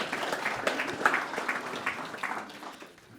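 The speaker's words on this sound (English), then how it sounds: "would you give a reverent round of applause to the man for that?" Polite applause from mourners at a funeral service, a soft scattered patter of many hands lasting a few seconds and tapering off toward the end.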